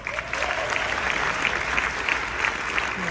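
An audience in the Queens Theater in New York gives a sustained round of applause, a dense, even wash of clapping from many hands, fairly close and steady throughout.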